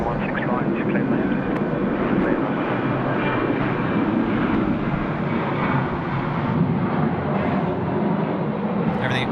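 Qantas flight 43 airliner at Sydney Airport, a steady broad engine roar that holds at a constant level throughout, with faint voices in the background.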